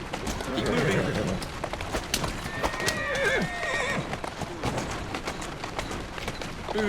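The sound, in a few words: horse neighing in video game Assassin's Creed Syndicate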